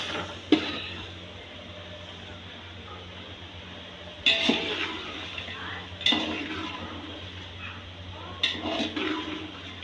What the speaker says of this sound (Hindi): अब इसमें हम दही डालेंगे, दही डाल के भुनेंगे मसाले को।